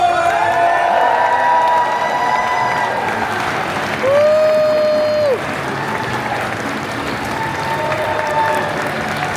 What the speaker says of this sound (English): let's make some noise for Fee, who is cosplaying as Dawn!